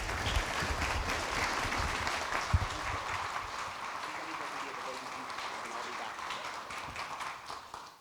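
An audience applauds to welcome Father Dan Horan at a talk, a dense sustained clapping that holds steady for several seconds before tapering off near the end.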